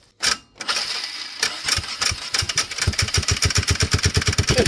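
A Polaris 500 engine with a rattle cranks and catches, then runs with a fast, uneven, loud putter that speeds up into a steady rough idle, close by.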